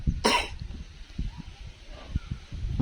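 A single sharp cough from a child with a cold near the start, followed by quiet rustling and soft handling noises.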